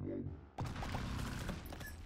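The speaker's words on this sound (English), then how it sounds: "After 5 seconds, it explodes with a giga bomb explosion." A giga bomb blows up in the Binding of Isaac Repentance video game, a sudden loud, dense blast with crackling debris that swamps the earlier sound and keeps rumbling to the end.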